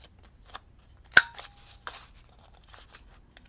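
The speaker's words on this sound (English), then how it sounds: "And then I will round all the corners." Corners of patterned paper from a paper pad are rounded off, heard as a handful of crisp, close snips and clicks, one sharper than the rest, in a quiet room.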